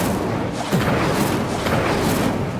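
Incendio fire spell cast in the Hogwarts Legacy video game, a continuous loud rumbling whoosh of flame and muffled booms with a soft thump early on, no talk.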